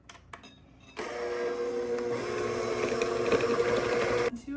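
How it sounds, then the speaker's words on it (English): An electric hand mixer whirs steadily through butter, maple sugar and brown sugar, a close, even motor drone that starts after a few clicks and runs for several seconds before stopping. "we will now be using a hand mixer to mix these 3 ingredients together"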